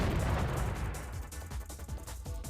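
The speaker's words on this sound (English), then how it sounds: "Then can anyone explain those explosions?" Video game explosions from War of the Human Tanks, a rolling series of deep booms and bursts heard at a distance and fairly quiet, overlapping into a continuous rumble with no voices.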